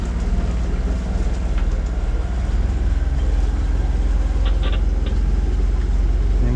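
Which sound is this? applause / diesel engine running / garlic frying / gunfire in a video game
diesel engine running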